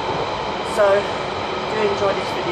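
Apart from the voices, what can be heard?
London Underground train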